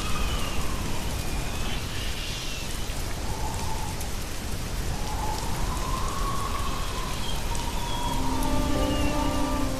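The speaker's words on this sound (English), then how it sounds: "Lightning." Heavy rain pours in a steady, dense roar throughout, with no distinct thunder crack standing out.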